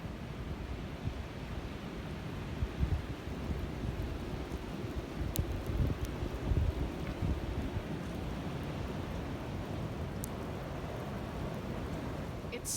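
Strong wind roars steadily across the microphone during sudden snowfall, a dense low rumbling buffeting with faint higher gusts, continuous and fairly quiet overall.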